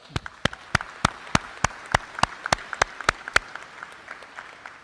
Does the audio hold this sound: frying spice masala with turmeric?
no